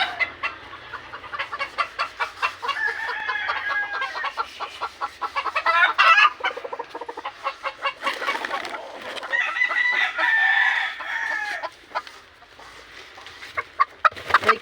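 Chickens cluck and cackle continuously at close range, a busy run of short, rising calls with a few louder bursts, heard on their own with no talking.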